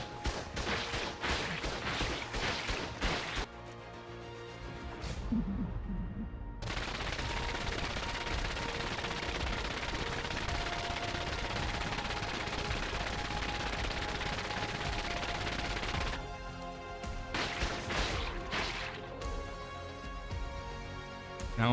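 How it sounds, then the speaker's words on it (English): Turrets in ARK Survival Ascended fire on a creature in long, rapid automatic bursts, a sustained loud mechanical rattle that stops briefly near the start and breaks into shorter volleys toward the end. "Now onto the final test for the carbon image, which is gonna be outlasting the turrets or perishing to them."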